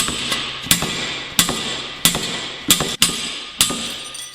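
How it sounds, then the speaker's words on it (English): A slide hammer strikes repeatedly to pull a sleeve free, giving about six sharp, loud metallic impacts at irregular intervals, each with a brief ringing tail, and no talking. "I prefer using for this a slide hammer."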